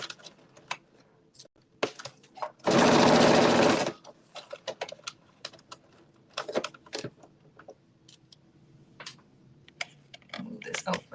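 A sewing machine runs in one solid burst of about a second, stitching down the facing on a dress, amid quiet handling clicks and rustles with a little talk around it.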